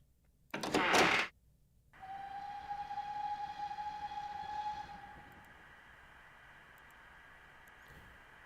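A train moves in the video game Dark Fall: The Journal, opening with a loud burst of rumble, then a long steady whistle-like tone over a continuous rolling hum that fades into a quieter sustained drone.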